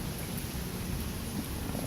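Heavy rain falls during a flood, a steady, dense, wide hiss that holds at an even level throughout with no voices.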